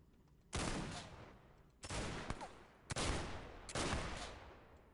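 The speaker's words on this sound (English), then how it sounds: "Man, that gun is noisy for a little snub-nosed thing" A small snub-nosed gun in The Xcom Files fires four loud, sharp shots, each ringing out with a short echoing tail, spaced about a second apart over quiet surroundings.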